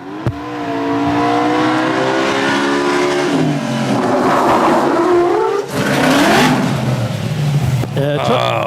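A fire truck at a drill competition slides sideways, its engine roaring loudly and steadily with changing pitch and a tire skid mixed in, while voices carry over the noise.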